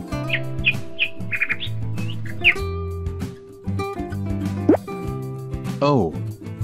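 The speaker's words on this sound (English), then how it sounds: "Nightingale." A nightingale sings a string of short, bright chirps and trills over soft background music, followed by a voice speaking.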